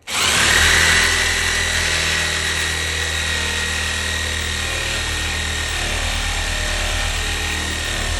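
An electric jigsaw buzzes loudly and continuously through wood, a steady mechanical whine with grinding texture throughout, no voices.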